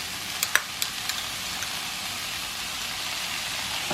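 Sausage and vegetables with tomato paste and ketchup are stirred in a pan, giving a steady soft sizzle with a few sharp scraping clicks of the spoon early on.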